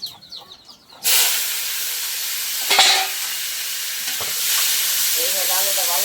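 Cumin seeds and a bay leaf hit hot oil with a sudden loud sizzle, then a sustained close hiss of frying; a brief voice is heard just before the sizzle begins.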